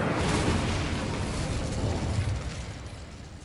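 The Incendio fire spell cast in Hogwarts Legacy: a loud, broad roaring whoosh of flame that bursts at once, sustains for a few seconds, then eases slightly toward the end.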